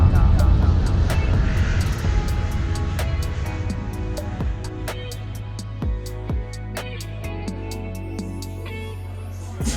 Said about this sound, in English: Yankee X-Ray Romeo, runway 18 center, clear for takeoff.